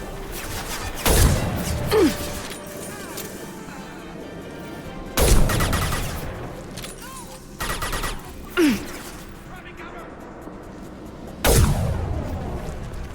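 Sparse gunfire in Mass Effect 2: four separate sharp bursts spaced several seconds apart over a low game ambience, each with a short ringing tail.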